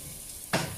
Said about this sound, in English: So I'm gonna get this going on the pan too, the same time as our garlic slices.